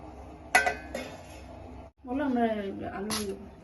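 A metal lid is set down on a pot of chicken biryani in a home kitchen, giving a sharp clink and a second lighter knock, with a person talking nearby.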